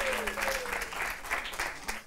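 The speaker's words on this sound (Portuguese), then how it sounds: "Caravela, palmas para eles." A brief burst of audience applause for a quiz team at a semifinal competition event in Macau, steady clapping from a crowd in a hall.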